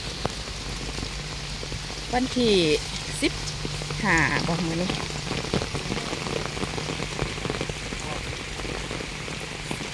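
Steady rain falls on a garden, an even hiss of drops across the whole stretch, while someone speaks briefly over it in two short bursts.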